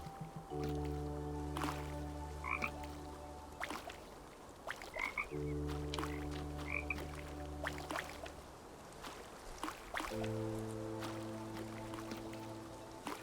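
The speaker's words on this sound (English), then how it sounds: "Here's the forever frogs." Frogs in the video game The Talos Principle 2 croak in a looping chorus of long, steady, droning calls in three stretches, with faint clicks and drips in an arid outdoor setting.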